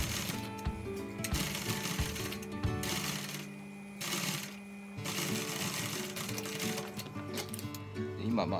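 A sewing machine stitches fabric for a tuck roll, running in close, rapid bursts with brief stops, while a person talks at times.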